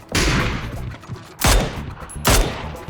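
Gunfire in the video game PUBG: three separate bursts of rapid shots, loud and sharp, each followed by a brief decay, with no talking.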